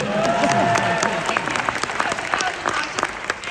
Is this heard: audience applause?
yes